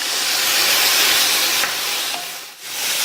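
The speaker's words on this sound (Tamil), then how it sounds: "இந்த காலிஃப்ளவர் 2ல இருந்து 3 நிமிஷத்துக்கு இந்த வெங்காயம் தக்காளியோட வதங்கட்டும்" Cauliflower sautéing with onion and tomato in a pan gives off a loud, dense, steady hiss that eases briefly near the end, with no voices.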